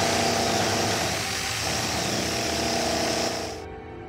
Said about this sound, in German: Mehr als 2 Dutzend Löcher habe ich jetzt gebohrt, aber er will einfach nicht brechen.